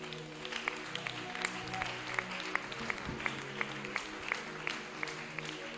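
A church congregation in Pointe-Noire claps steadily, with sharp, regular handclaps ringing out over a soft room murmur at moderate distance.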